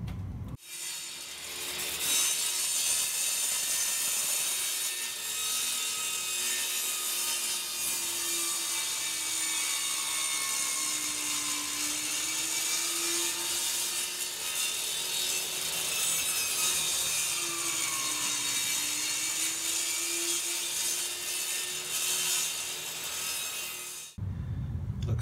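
A raised table-saw blade cuts through a wooden piece for a box, a continuous loud whining, rasping cut lasting over twenty seconds with a slight pitch dip midway, starting and stopping abruptly.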